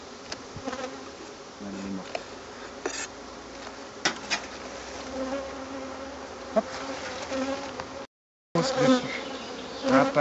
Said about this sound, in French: T'as une abeille, là.